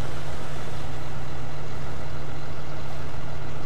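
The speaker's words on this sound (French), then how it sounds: "Et là, on peut voir le ralenti qui diminue" A 420 hp tractor engine idles in a farming video game, a steady low hum holding alone throughout at moderate loudness.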